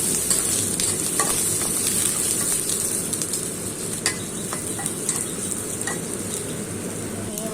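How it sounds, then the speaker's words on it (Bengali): Garlic and dried red chillies fry in oil with a dense, even crackle close by, broken by small sharp pops and the occasional stir, and no voices. "রসুনগুলোকে কিছুক্ষণ ভেজে নিয়ে এর মধ্যে দিয়ে দিচ্ছি শুকনো মরিচ দিয়ে ভালোভাবে ভেজে"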